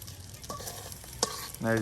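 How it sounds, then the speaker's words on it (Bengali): Dried fish fries in a pan for a Garo tribal village chorchori, giving a faint, steady sizzle with a few quiet stirring clinks. "এভাবে আপনার শুটকি ভেজে চচ্চড়ি রান্না করা"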